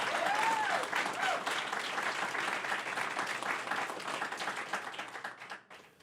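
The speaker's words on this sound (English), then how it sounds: "give yourselves a round of applause" An audience at an artist forum in the Adirondacks applauds, a dense, steady round of clapping from a crowd that holds for several seconds and then tapers off near the end.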